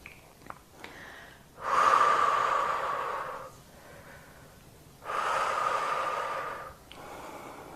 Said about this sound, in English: Enjoying the relaxing breathing pattern